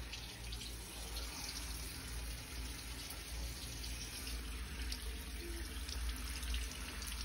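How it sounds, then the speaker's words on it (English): Water from a hotel bathroom sink tap runs steadily as hands are washed, a continuous close gush of faucet flow with no talking. "I was washing hands."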